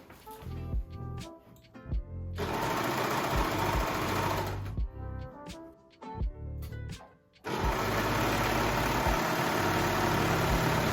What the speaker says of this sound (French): allez, je vais surjeter tout ça.